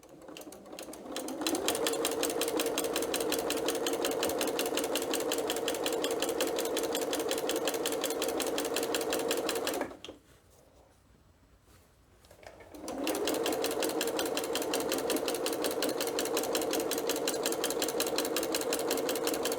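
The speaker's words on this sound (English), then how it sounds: "all you're going to do is take it to your sewing machine." A sewing machine stitching a quilt hanging sleeve runs in a loud, steady, rapid whir, pauses for a few seconds of near silence, then resumes at the same even pace.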